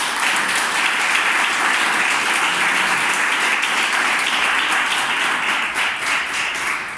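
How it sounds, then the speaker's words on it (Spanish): A large audience claps loudly and continuously at a Bible science lecture, a dense, steady wash of applause lasting the whole stretch without a break. "Denle un aplauso grande a la Biblia."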